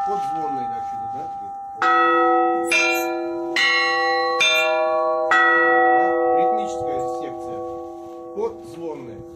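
Podzvon church bells of the Ascension church in Stary Oskol ring out in several loud, resonant strikes with long overlapping decays, between stretches of a person speaking before and after the peals.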